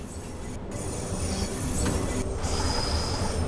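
Metal wheels grind and squeal against rails on a Bakerloo Line train in Train Sim World 4, a loud continuous rumbling screech with high whining tones under the rolling carriage noise.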